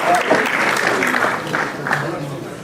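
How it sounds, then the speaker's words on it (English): An audience at a Brighton Beach gathering claps for a welcomed guest, a short burst of moderate applause with voices and chatter running through it. "A round of applause."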